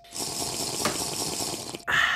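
Tap water runs in a steady, hissing stream for most of the clip, then the flow changes abruptly near the end into a brighter, louder splash. No one speaks.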